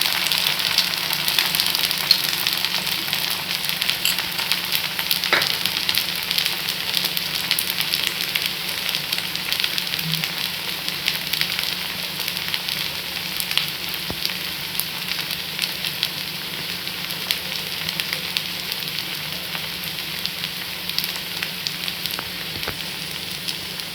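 Uttapam fries in oil on a pan, giving a steady, even sizzle throughout with a low background hum and no voices.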